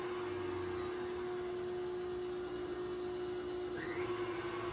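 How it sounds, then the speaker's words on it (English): A KitchenAid stand mixer whisks waffle batter as melted butter is slowly added, a steady mechanical whirring hum with a constant tone running throughout, close and even. "Keep whisking it while I add the butter."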